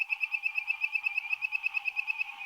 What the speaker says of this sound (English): River frogs have incredibly strange voices, but this is my all-time favorite.